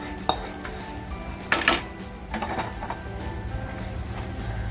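A metal spoon scrapes and clinks against a cooking pot as masala is transferred into prawn masala, a few sharp knocks followed by softer scraping, close and fairly quiet.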